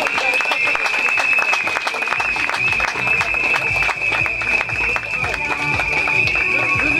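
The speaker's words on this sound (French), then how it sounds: "on peut les applaudir bien fort, les premiers relayeurs ici" Crowd applauding the first relay runners arriving at a race finish, with steady clapping and cheering beneath a loud announcer talking over a public address system.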